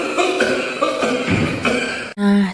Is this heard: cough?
yes